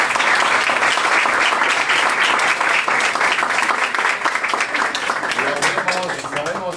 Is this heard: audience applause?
yes